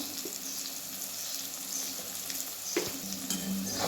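A spiced tomato mixture with turmeric, asafoetida and coriander powder sizzles in a pan as it is stirred, a close steady hiss broken by a few scraping knocks, with nobody speaking.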